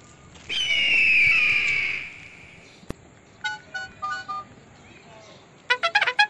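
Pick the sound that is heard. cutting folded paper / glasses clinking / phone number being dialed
phone number being dialed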